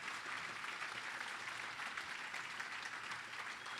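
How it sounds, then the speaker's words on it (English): Audience applause at a WVU Medicine Children's ribbon-cutting event, a steady wash of clapping from a crowd that holds evenly at moderate level throughout. "Give them a round of applause, would you please?"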